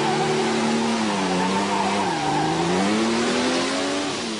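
A car doing a burnout at a street gathering around Perth roars continuously at high revs while tyres squeal. Thick, loud noise fills the whole stretch, with the engine pitch dipping briefly and then climbing again.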